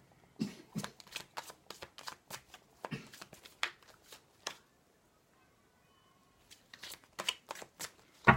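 Tarot cards are shuffled close up in quick riffling bursts, a string of crisp flicks and slaps, a short quiet pause, then another fast run of shuffling.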